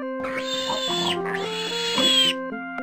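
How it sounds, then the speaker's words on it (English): A cartoonish pig oinks in a children's zoo video game about baby animals, a sustained tonal call in two drawn-out bursts over soft game music, with a short musical chime at the end. "You're right. A pig goes."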